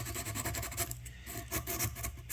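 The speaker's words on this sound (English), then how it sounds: "I've cut some thin strips of 320 grit sandpaper. So I'm going to wrap that around my file" Thin strips of 320 grit sandpaper wrapped around a file are worked around the edge of a hole on a Harley Benton DC-600 guitar, producing close, continuous scratchy rubbing strokes in a quick back-and-forth rhythm.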